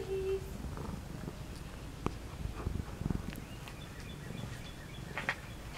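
A mother cat with three or four kittens on a porch, soft purring and faint mewing sounds under a steady low background hum, with a few small scuffs and clicks nearby.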